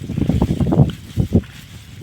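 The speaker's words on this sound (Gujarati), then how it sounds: "આ રીતે પવન એ બહુ છે" Strong wind buffets the microphone in rough, low rumbling gusts on open farmland, rising and falling irregularly throughout.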